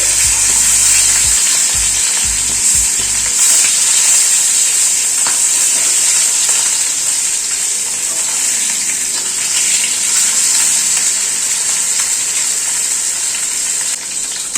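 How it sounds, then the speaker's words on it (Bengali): Fish sizzles loudly in hot mustard oil in a kadai after being flipped, a steady, close, continuous frying hiss that carries on unbroken with no talk. "মাছটা উল্টে দিচ্ছি।"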